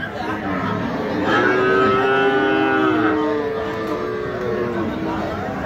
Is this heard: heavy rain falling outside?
no